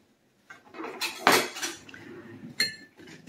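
A salted coating for chicken fingers being mixed in a bowl, with a few clinks and scrapes of a utensil against the bowl, one sharper knock near the middle, close and fairly quiet.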